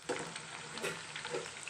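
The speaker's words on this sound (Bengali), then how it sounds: "আরও এক সাইডটা ভালো করে ভেজে নিলে" Pieces of Chinese-style spicy chilli chicken fry steadily in hot oil in a kadai, giving a close, continuous sizzle with a few brief louder crackles and no talking.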